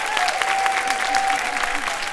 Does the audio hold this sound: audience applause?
yes